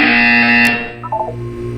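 A buzzer from the video game Portal 2 sounds as a steady, bright electronic tone for about a second, then fades into quieter wavering tones, heard alone and fairly loud.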